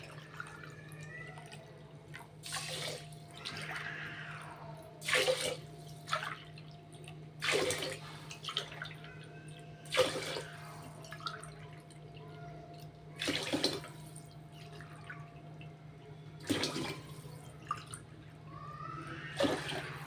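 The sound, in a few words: pouring water onto rice in a pot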